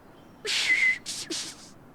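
A girl whistles in a children's animated series, making two short bright bursts followed by a third fainter one, clear and close against quiet.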